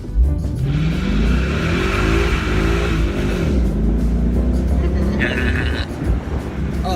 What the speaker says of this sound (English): When you give it full throttle, you can hear more of the engine than you do of the exhaust.